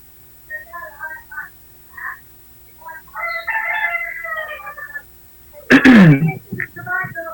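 A rooster crows once, loud and close, after stretches of scattered chicken clucks and other faint bird calls in a quiet yard, with a short burst of talk just before.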